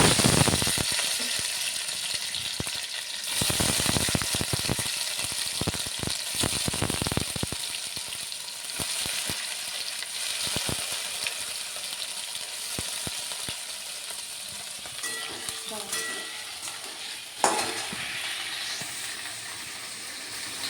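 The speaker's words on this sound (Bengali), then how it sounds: "তেল দিয়ে দিলাম পনিরগুলো ভাজার জন্য" Steady, dense sizzling of paneer frying in hot oil in a wok, with a constant hiss that stays loud and close throughout and a few sharper crackles.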